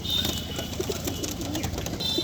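Pigeons at an open-air pet market coo softly in a few low, short bursts over a continuous murmur of crowd noise.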